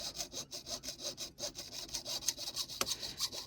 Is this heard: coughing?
no